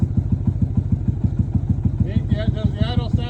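A motorcycle engine idles close by with a quick, even chugging pulse, and a voice starts talking over it near the end.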